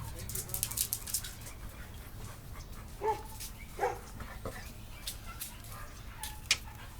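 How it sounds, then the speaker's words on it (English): Dogs barking and yipping outdoors, a few short sharp barks scattered among faint bird chirps and background noise, moderately distant. "I love your dogs"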